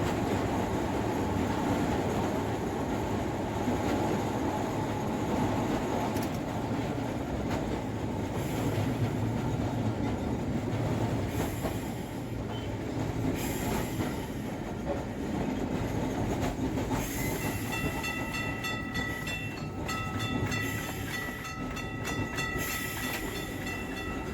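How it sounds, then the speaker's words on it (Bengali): A Kolkata tram rumbles along rails as it turns into Gariahat depot, wheels clattering and squealing as it slows, with rhythmic clicks over track joints and loud, close rolling noise. "সামনেই ডান দিকে আমাদের ট্রাম ঢুকবে গড়িয়াহাট ডিপোতে"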